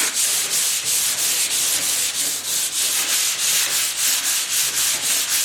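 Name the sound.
hand sanding car body work with sandpaper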